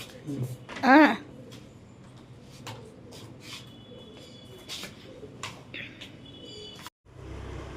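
Domestic pigeons calling outdoors, with a louder burst of chirping near the start and softer coos and chirps scattered through a background of low murmuring voices and household noise.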